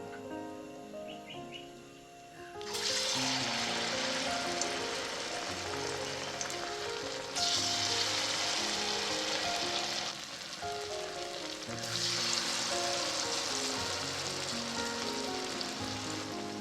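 Hot oil bursts into loud, steady sizzling as batter-coated banana pieces drop in, the frying hiss swelling in waves over background music.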